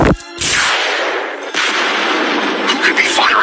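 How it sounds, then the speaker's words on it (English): Weapon fire from a Transformers cartoon: loud, harsh energy blasts, one short burst then a longer sustained roar that fades into a crackling tail, with no talk over it. "Who could be firing on us?"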